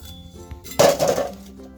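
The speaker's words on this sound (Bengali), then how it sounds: "নিশ্চয়ই আওয়াজ শুনে বুঝতে পারছেন কতটা মুচমুচে হয়েছে" Crispy fried chicken donuts are handled after frying, giving one sharp clattering crunch near the middle, close and alone, then a short rustle that fades.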